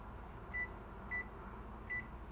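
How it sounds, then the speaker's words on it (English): A microwave oven in a horror video game gives three short, evenly spaced beeps over a low background hum, with no voices. "Somebody using my microwave?"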